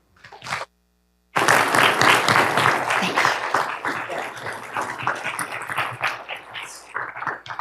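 Audience applause from a full hall welcoming a speaker to a remembrance event, a brief clap then a dense, sustained roar of clapping that tapers slightly while staying steady to the end.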